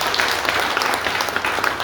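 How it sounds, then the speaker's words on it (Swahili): Church congregation applauding during a Sunday service, a dense, steady wash of clapping hands throughout, fairly loud and even, with no clear speech over it. "Tupigie Vera makofi."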